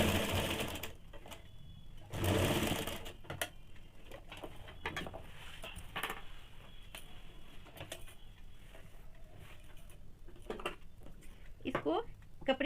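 A sewing machine stitches around the hem of a heavy petticoat, running in short close bursts with pauses and soft handling sounds between, under quiet talk.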